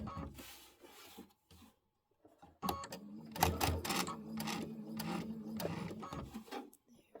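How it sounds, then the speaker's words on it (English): A sewing machine runs steadily while stitching along the edge of a quilt's scallop border. There are a few soft handling rubs first, then a close, continuous mechanical whirring for about four seconds before it stops. "I'm just going to sew up that edge again, just at the back part"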